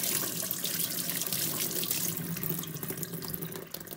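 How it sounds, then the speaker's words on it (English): Kitchen tap water runs steadily onto an apple being washed, a continuous close hiss and splash that eases off slightly near the end, with no voices. "The first step in the process is to wash an apple."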